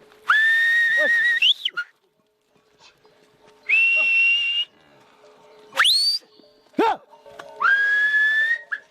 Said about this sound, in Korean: 야크와 쩌우리를 이끄는 건 목동의 휘파람 소리입니다